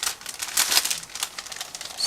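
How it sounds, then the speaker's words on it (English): Close crinkling of a resealable plastic bag being opened, a run of soft crackles and rustles lasting about two seconds. "It's a resealable plastic bag"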